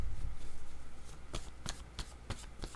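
Tarot cards are shuffled and drawn, making a quick run of close, crisp riffling flicks and snaps.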